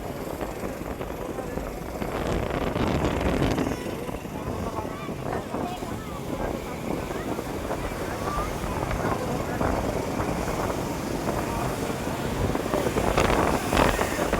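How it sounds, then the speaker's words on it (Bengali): A fishing trawler speeds across the sea, its engine rumble blended with wind buffeting the microphone and waves, steady and fairly loud, while a person talks over it. "এইসব মাছ ধরে চলে আসছে। কত স্পিডে যাচ্ছে দেখো তো, পিছনে আরো একটা আসছে।"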